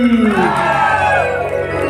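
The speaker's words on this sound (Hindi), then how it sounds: "जोर से ताली बजाओ और बाद जयकारा लगाओ बोलो श्याम रामचंद्र की" A crowd at a religious Manas Pariwar gathering bursts into a loud, unison devotional jaikara shout, voices rising and sliding together in a sustained collective chant, close and dense.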